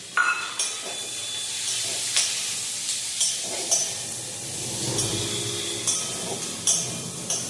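Onion, capsicum and crushed garlic fry in a pan with a steady sizzle, broken by regular scraping clinks of a spatula stirring the pan roughly once a second, close and clear with no talking.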